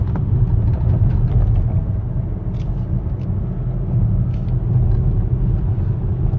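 A 2007 Mercedes-Benz GL450 cruises at about 60 mph on a winding road, heard from inside as a loud, steady low rumble of engine and road noise with no talking.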